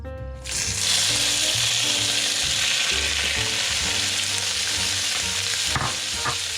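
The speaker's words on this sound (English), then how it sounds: "The prawns shouldn't take too long to cook, maybe 4 or 5 minutes" Prawns hit a hot oiled pan with a sudden loud sizzle that settles into a constant close, crackling fry, with a brief stir or scrape near the end and no voices.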